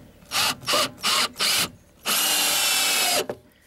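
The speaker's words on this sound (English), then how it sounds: "Just run the screw in, just make sure you don't pierce the barrel so you'll have leaks later on." A power drill drives screws to fix plastic water barrels onto a frame for a rain catchment: four short, loud bursts of whirring, then one longer sustained run, with no talking.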